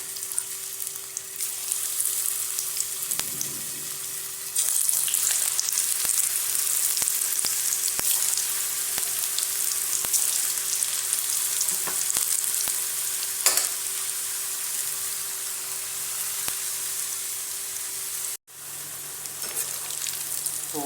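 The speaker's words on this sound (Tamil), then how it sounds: "இப்போ ஒன்றா போட்டு இப்படி பொரித்து எடுக்கணும்." Bitter gourd pakoda pieces deep-fry in a wok of hot oil, a loud continuous sizzle that swells when more pieces go in, with occasional clinks and faint water noise, no talking.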